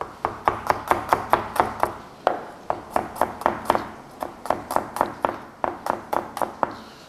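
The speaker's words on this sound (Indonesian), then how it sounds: "Nah, ini bawang merahnya ya, bawang merahnya juga kita slice ya." A knife slices shallots on a cutting board in a home kitchen, making a rapid string of sharp, close chopping taps in quick bursts with short pauses between them and no talk over them.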